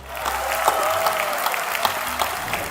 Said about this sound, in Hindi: एक बार हमारे प्रधानमंत्री जी के लिए तालियां बजाएं आप सब लोग।